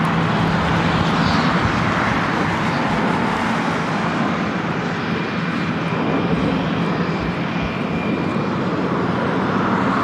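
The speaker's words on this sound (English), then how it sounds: "You have Delta Airlines heading to SFO, Flight 2267. It's a 737-900ER heading to 24 right." Delta Airlines Boeing 737-900ER jet at LAX heading for runway 24 right, its engines a loud, continuous, broad roar holding steady for the full ten seconds with no voices.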